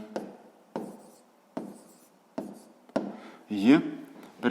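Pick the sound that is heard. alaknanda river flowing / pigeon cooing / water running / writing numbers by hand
writing numbers by hand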